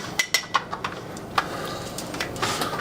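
Hammers being handled and hung on a workshop tool rack, with a few sharp metallic clanks and clinks early on, then quieter knocks and light rattling.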